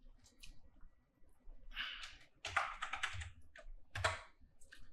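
Names being typed on a computer keyboard, with quick clusters of close, crisp key clicks in irregular bursts separated by short pauses, recorded quietly alone.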